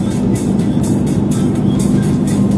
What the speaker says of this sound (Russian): Вот едет Вилстрой с кучей гравия и непонятно чего.